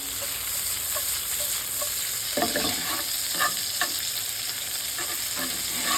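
Vegetables sautéing in a hot pan give off a continuous bright sizzle, with occasional soft stirring scrapes and knocks rising above it.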